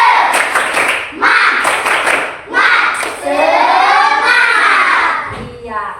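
A school class claps together in a patterned cheer, the loud, close bursts coming in short rhythmic groups separated by brief gaps, while a voice speaks over parts of it.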